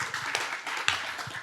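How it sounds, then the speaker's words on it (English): A brief, faint patter of audience applause at a talk on thermal energy networks, a few scattered claps over little more than a second. "You can give an applause, please."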